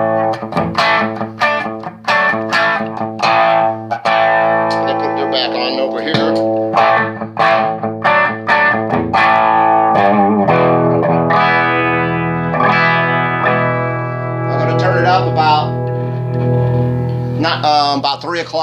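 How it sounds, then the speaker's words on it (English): An electric guitar through an MXR distortion pedal plays chords and picked notes, gritty and sustained with a crunchy overdriven edge, loud and close. "I'm going to put a little bit of the MXR distortion"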